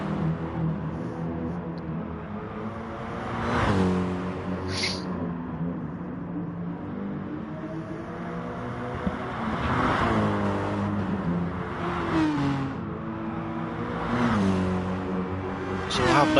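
Race car engines at the Nurburgring 24-hour race, with cars roaring past in repeated rising and falling sweeps over a constant engine drone, while a voice talks throughout.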